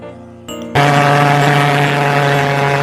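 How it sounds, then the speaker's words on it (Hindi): A toy helicopter powers up and flies: a small electric motor and rotor start with a click, then settle into a loud, steady, close whirring drone with no talk over it. "दोस्तों अब हम इसको उड़ाएंगे।"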